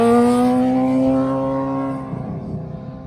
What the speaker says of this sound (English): So we got a motorcyclist leaving.